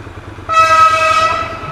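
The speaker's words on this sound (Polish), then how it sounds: "jedzie pociąg" A train passes nearby with a loud, sustained horn blast that starts abruptly and holds steady over low rumbling, heard outdoors during a motorcycle trip.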